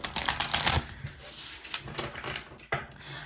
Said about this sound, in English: All right, I'll shuffle.